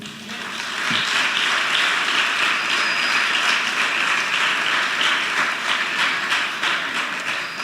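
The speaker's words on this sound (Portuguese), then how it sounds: "dê um aplauso ao Senhor." A church youth service congregation claps together in a thick, continuous wash of applause that holds fairly loud and even for several seconds before easing slightly at the end.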